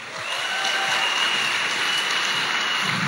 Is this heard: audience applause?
yes